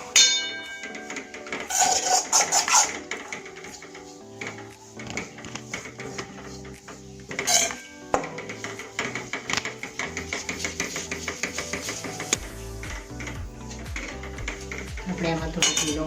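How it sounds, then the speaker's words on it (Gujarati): Ghee being stirred into flour in a pan for a Gujarati satam thali, with repeated metallic scraping and clinking of a utensil against the pan, a few sharper clanks, and steady background music throughout. "તો પહેલાં એકવાર ઘી બધું આની અંદર મિક્સ થઈ જાય એ રીતે આપણે આને હલાવીશું।"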